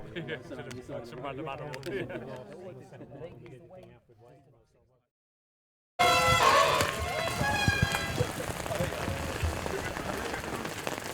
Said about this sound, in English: this rain is only temporary